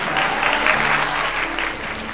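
Loud, sustained applause from a crowd at a Hindi poetry recital welcomes a poet to perform, a dense, even wash of clapping close by with no break.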